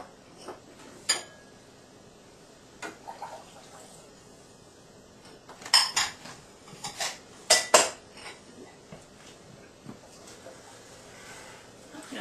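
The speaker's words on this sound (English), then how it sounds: "I'm going to stir this around until all the sugar dissolves and it gets good and hot." A spoon stirs sugar into hot syrup in a pot, giving soft intermittent scrapes and clinks against the metal, with a few louder knocks clustered midway and quiet gaps between.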